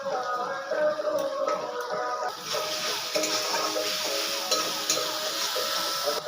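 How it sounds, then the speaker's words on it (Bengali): Chili powder, coriander powder, cumin and salt are stirred in a frying pan while cooking bitter gourd, giving a steady, close sizzling hiss with occasional scraping clicks from the spoon. "আবার একটু নাড়িয়ে নেব।"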